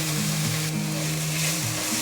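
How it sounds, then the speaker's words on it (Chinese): Lotus root and tofu patties sizzle steadily as they pan-fry flat in a hot pan, a close, continuous crackling hiss with no voices. "它平铺在锅底下，给它煎"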